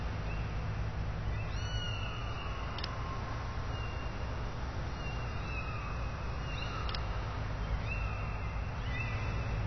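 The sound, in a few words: kittens meowing in Sam & Max Save the World video game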